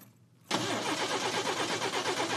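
Turbocharged Buick hot rod engine with '87 intercooled power, fired up after fuel priming: a quiet lead-in, then a sudden catch at half a second into a loud, pulsing, rumbling idle.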